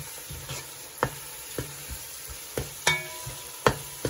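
Biryani masala powder being mixed through other ingredients in a pan, with repeated spoon scrapes and knocks against the metal over a low sizzle, the strokes irregular and close.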